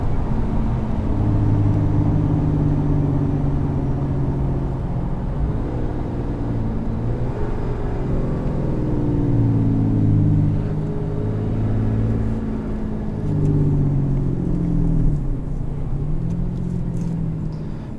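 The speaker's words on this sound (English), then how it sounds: "you can downshift and let the engine braking work for itself" A 2017 Ram 3500 Tradesman diesel pickup engine-braking with its exhaust brake, a steady low droning rumble with slowly shifting engine tones heard from inside the cab, continuous and fairly loud with no talking.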